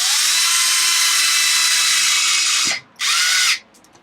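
Power screwdriver driving small screws into plastic on a Traxxas XO1 RC car, a loud, close, steady whine for nearly three seconds, a brief stop, then one more short burst before it falls quiet.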